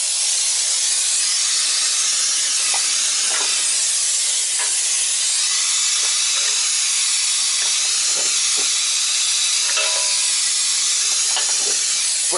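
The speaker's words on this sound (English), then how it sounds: "You'll hear all this air shoot out." Compressed air blasts out of a truck's brake valve in a loud, continuous hiss that holds steady for the whole stretch, close and alone without talk.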